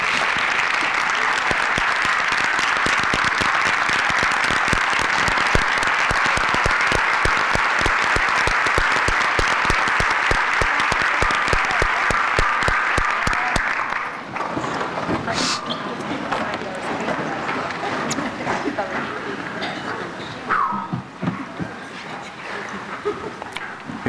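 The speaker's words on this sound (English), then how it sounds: "If we could give them all just one last round of applause." Sustained crowd applause at a town hall meeting, loud and even for about fourteen seconds before thinning into scattered claps, movement and murmuring.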